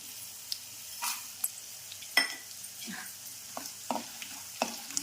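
Peanuts and mustard seeds fry in hot oil for lemon pulihora, giving a soft steady sizzle with scattered sharp crackles and pops, close by, with occasional stirring.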